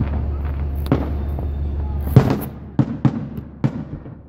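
Fourth of July fireworks burst in a ragged series of sharp, booming cracks, one big bang near the middle followed by several quicker pops, with a low rumble early on.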